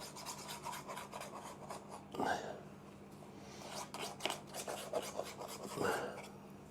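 A knife scrapes and rubs along the edge of a steak and ale pie as the pastry is trimmed, giving a few close, soft rasping strokes over a low steady hum, with quiet talk in places.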